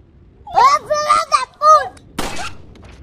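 A single loud gunshot rings out in a PlayStation 2 video game played on an emulator, aimed at a dog, right after a short burst of voice.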